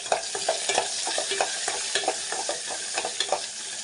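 Cumin seeds and small onions frying in a pan for drumstick sambar, a dense steady sizzle broken by repeated scraping stirs of a spoon through the oil, close and fairly loud with no voices.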